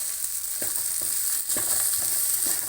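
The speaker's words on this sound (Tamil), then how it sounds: "இப்போ வந்து பட்டை சோம்பு போட்டுக்கிறோம்" Cinnamon and fennel seeds sizzling in hot oil for a country chicken curry, a bright continuous frying hiss with small crackles and a few stirring scrapes, close and steady.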